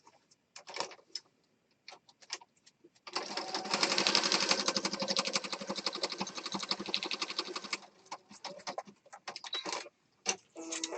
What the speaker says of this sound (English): I've got it set up to zigzag stitch